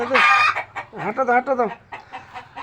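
Hens clucking close by in a household yard, a quick run of loud, nasal clucks in uneven bursts with short pauses between them.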